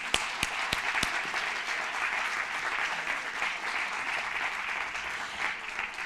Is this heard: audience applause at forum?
yes